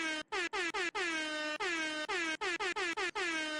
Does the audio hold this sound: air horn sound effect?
yes